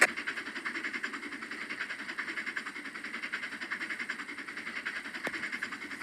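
Locomotive in a train video game hauling a train up a grade, giving a steady rolling rumble with faint rhythmic clatter at a moderate distance and a single sharp click near the end.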